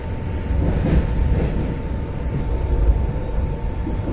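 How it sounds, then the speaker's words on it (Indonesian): A train crossing a river bridge rumbles steadily and loudly nearby, a continuous heavy clatter with a faint steady tone above it. "Inilah momen ketika kereta menyeberangi sungai."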